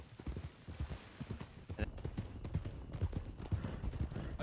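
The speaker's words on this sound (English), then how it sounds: "How you liking the horse so far, Ryder?" Horse hooves clip-clop at a steady walking rhythm in Red Dead Redemption 2, a dull, continuous thudding gait against a faint ambient background.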